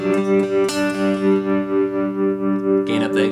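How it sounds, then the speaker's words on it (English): Guitar through a tremolo effect pedal run into an HX Stomp and a Twin Reverb amp, sustained chord pulsing in a steady, fairly quick volume wobble about four times a second, close and loud, then a fresh strum near the end. "So this is a tremolo, and with the knob for this tremolo setting, I'm going to adjust a little bit of the mix, but mostly that speed."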